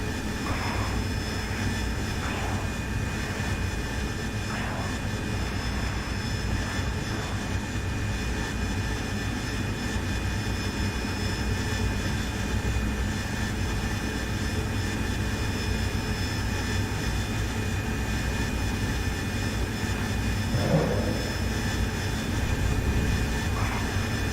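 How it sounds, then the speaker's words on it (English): Steady, loud drone of a simulated aircraft engine in a flight simulator game, continuous and even with no breaks, a faint thump near the end and no talking. "I'll go land and I'll swap to a Spitfire."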